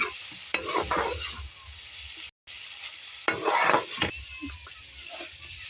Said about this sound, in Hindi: अब अच्छे से भून लेते हैं।